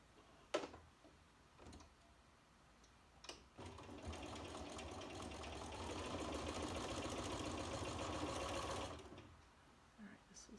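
Quilt fabric is chain pieced on a sewing machine that hums in one long continuous run after a few sharp clicks and taps, fairly quiet.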